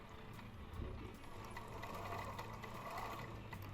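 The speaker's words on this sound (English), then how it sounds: "just flatten out that bulk and so I can sew over it" A sewing machine stitches over a thick, bulky fold of fabric on a plush gnome toy, a faint, steady mechanical whir with small rapid clicks running throughout.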